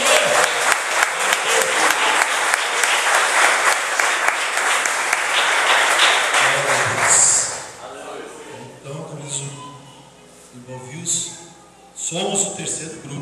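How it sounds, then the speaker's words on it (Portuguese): A church congregation applauds a prayer and worship demonstration, loud sustained clapping for about seven seconds that drops away abruptly, followed by a preacher's amplified voice talking. "Vamos aplaudir essa demonstração"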